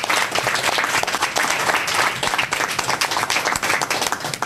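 Audience applauding at the kick-off of Global Entrepreneurship Week in Curaçao, a steady, dense wash of many hands clapping throughout, loud and sustained with no talk over it.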